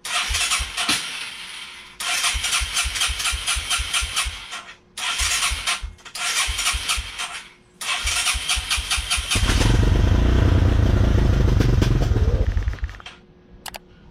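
An engine with a freshly fitted carburetor is cranked in several repeated bursts. Between them it sputters, then catches and roars loudly for a few seconds before cutting out.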